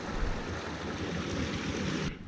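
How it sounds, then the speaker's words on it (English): Small waterfalls along a forest trail near Cheakamus Lake give off a steady, dense rush of falling water close by. The sound holds evenly, then cuts off abruptly at the end. "Lots of little surprise waterfalls along here."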